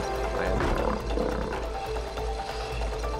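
A lion roars in the video game It Takes Two, a sustained, loud growl over steady game background sound, with faint speech present.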